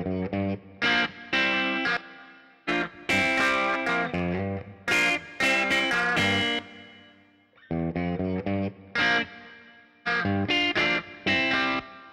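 Electric guitar played through an amp simulation with delay, distortion or modulation effects placed between amp and cabinet simulation, distorted phrases and chords ringing out in bursts separated by short silences.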